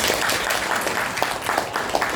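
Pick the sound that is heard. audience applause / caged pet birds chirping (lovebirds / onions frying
audience applause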